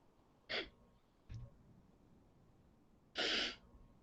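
A person sneezes during a quiet online class, with a short burst, a small snort-like breath, then a second louder sneeze, close to the microphone and without talk.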